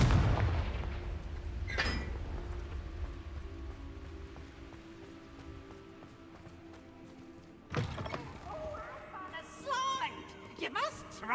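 In the Hogwarts Legacy video game, a Confringo spell goes off with a sharp blast near the start. Further bursty magical impacts and whooshing effects follow later over game ambience, with a voice talking at times.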